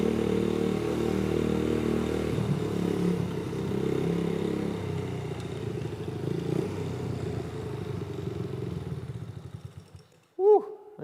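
A small Chinese motorcycle engine with too much power for the bike's size runs steadily at a loud, close idle drone for about ten seconds, then cuts out and leaves a brief clatter.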